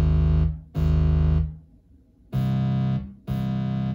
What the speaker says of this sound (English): Next, I have a bass and a sub bass.